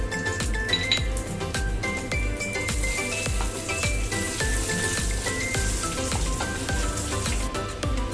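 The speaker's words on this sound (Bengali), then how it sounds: "এবার তেলের মধ্যে একটা তেজপাতা দিয়ে দিচ্ছি আর কিছুটা সাদা জিরে আর গোটা গরম মশলা রেখেছি এটা এখন ফোড়নে দিয়ে দেবো" A bay leaf, cumin seeds and whole garam masala hit hot oil for a Bengali tempering, giving a steady crackling sizzle with scattered light clinks of metal utensils throughout.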